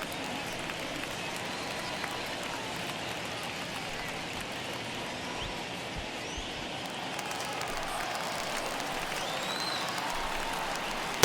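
Baseball stadium crowd in MLB The Show 21, a large audience of over 37,000 rising to their feet, producing a continuous broad roar of cheering and applause that holds steady throughout.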